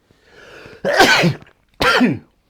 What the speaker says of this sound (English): I'm going to sneeze in a minute,